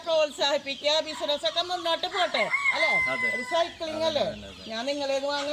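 Chickens cluck and a rooster crows repeatedly at a chicken farm in Kodungallur, Kerala. The loud, wavering crows come up close while people talk over them throughout.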